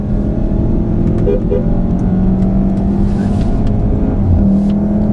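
A 2015 VW Golf R engine revs eagerly from inside the car, a loud steady drone climbing in pitch and holding under continuous road and cabin noise.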